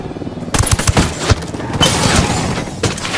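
Gunfire from Ghost Recon Wildlands bursts out in loud, close rapid shots and heavy impacts, in dense volleys that run for most of the moment.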